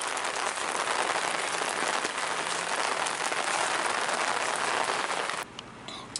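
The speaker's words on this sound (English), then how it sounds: "It's raining." Rain falling outdoors at a stromboli festival, a dense steady hiss of drops on surfaces that continues evenly and then drops away abruptly near the end.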